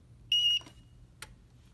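Spacelabs medical equipment gives a single sharp, steady electronic beep of about a third of a second as it powers off, followed by a faint click amid quiet background hum.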